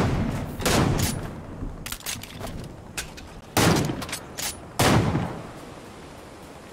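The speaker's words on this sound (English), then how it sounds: "Alright, shots to our left." Gunshots in the Fortnite video game, with bursts of rapid fire and single sharp cracks at irregular intervals, loud and close, with no talking over them.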